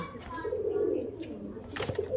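A Giribaz high-flyer pigeon gives a low, soft coo close by, followed by brief rustling and a faint higher call at the end.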